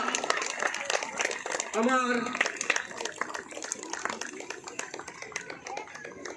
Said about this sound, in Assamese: সকলোকে হাত দাবাই বাজাই